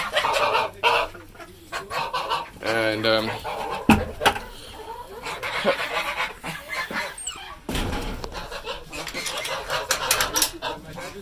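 Chickens cluck and squawk close by in a busy barnyard, with a louder burst partway through and a person talking intermittently over the birds.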